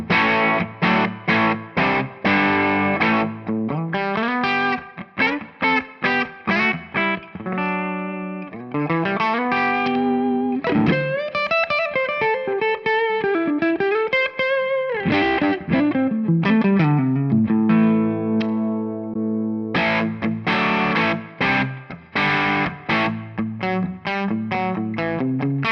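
High-gain electric guitar played through TONEX amp captures, thick distorted notes and chords ringing continuously with sustained bends and steady loud chugging, no voices.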